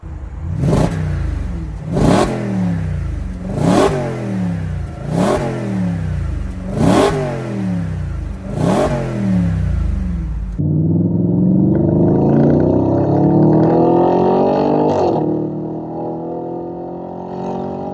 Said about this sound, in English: So onto the drive of this V8 RS4.